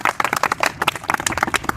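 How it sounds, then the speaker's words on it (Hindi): Applause from a group audience at a classroom session honouring exam toppers, dense, rapid claps, close and lively, running through the whole short stretch. "ताली हो जाए इनके लिए।"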